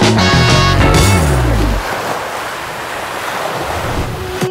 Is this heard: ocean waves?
yes